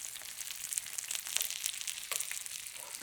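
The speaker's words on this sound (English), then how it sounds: "We're gonna baste this steak to completion." Steak and butter sizzle steadily in a hot pan while being basted, a constant bright hiss and crackle with occasional spatters and pops, close and alone without talk.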